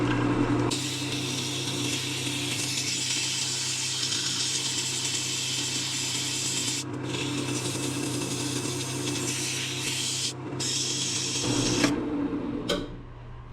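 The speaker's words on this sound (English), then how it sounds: "Now let's sand it from 80 to 320." A steady rushing whir of sandpaper on a turned wooden piece spinning on a lathe runs for many seconds, loud and close, with a couple of brief breaks and a slight shift near the end.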